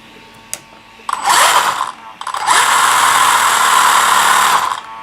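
A 3660 brushless motor rated 3500 kV in an RC car spins up with a loud, high-pitched whine in two bursts, a short one and then a longer sustained run, heard up close with no talk.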